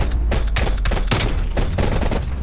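Rapid automatic gunfire crackles loud and close in a Call of Duty: Black Ops Cold War 2v2 match, dense overlapping bursts sustained for a couple of seconds without any talk.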